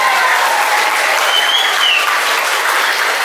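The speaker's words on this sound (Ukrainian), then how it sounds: "чи ваші долоні готові до гучних аплодисментів" A school hall audience at a student haka contest for fifth and sixth graders breaks into loud, dense applause, a continuous roar of many hands that stays level throughout with no talk over it.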